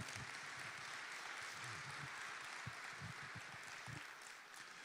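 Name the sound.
conference audience applause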